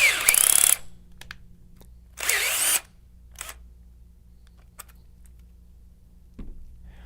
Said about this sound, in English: Only retract the flaring cone halfway with the drill, then finish retracting by hand.